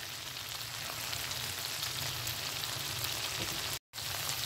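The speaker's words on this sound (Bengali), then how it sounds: "রসুনটা ভালো করে একটু ভেজে নেব তেলের সাথে।" Garlic frying in hot oil for a broccoli dish, a soft continuous sizzle and crackle throughout, quiet and close, briefly cut out near the end.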